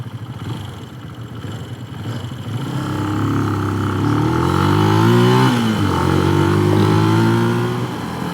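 A Benelli TNT 150i motorcycle engine runs nearby, a steady idle that swells into a rising, sustained rev around the middle before easing slightly, with no talk over it.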